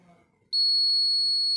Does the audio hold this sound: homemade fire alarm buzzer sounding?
yes